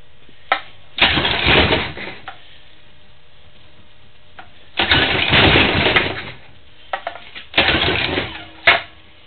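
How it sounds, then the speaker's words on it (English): A go-kart engine is pull-started again and again without catching, three loud bursts of rapid cranking and sputter, each a second or so long, separated by quiet gaps and small clicks. "Looks like the go-kart start did not work."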